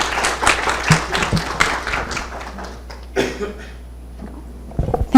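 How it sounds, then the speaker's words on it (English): Applause from an audience at an in-person business event in Saudi Arabia, fairly close claps that thin out and fade to near quiet before a few final taps. "Let's have a round of applause"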